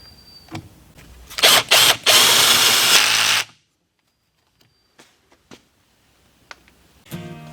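A KIMO T-20 cordless drill driver set to low speed gives a couple of short, close whirring bursts, then a loud steady run of about two seconds. It stops abruptly, leaving near silence with a few faint clicks and handling taps.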